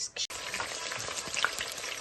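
Onions hit hot oil in a heated kazan for Kazakh quyrdaq, sizzling into a busy, moderately loud crackle after a brief gap at the start, with soft stirring clatter and no voices.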